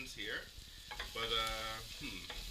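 Onions for cabbage soup fry in a pan with a soft, steady sizzle and the scrape of stirring, while a voice briefly hums or murmurs over it.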